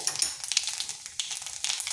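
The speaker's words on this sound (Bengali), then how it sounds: "বেঁচে যাওয়া তেলের মধ্যে দিয়ে দিচ্ছি কালো জিরা" Black cumin seeds tossed into leftover fish-frying oil hiss and crackle in a moderate, uneven sizzle with small popping bursts throughout, heard alone without any voices.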